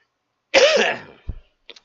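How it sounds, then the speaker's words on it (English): A single harsh, loud cough up close, followed by a brief softer throat sound, then silence. "Excuse me, this cough keeps persisting."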